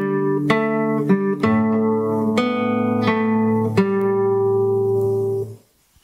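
Fingerstyle acoustic guitar plays a phrase, picked bass notes on open strings with ringing upper notes, about eight clear plucks over six seconds, close and alone before fading out.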